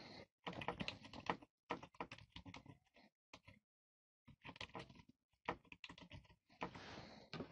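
Keys clatter on a computer keyboard as a project name is entered in Visual C# for a password generator, quick irregular bursts of clicks separated by short pauses, close and alone.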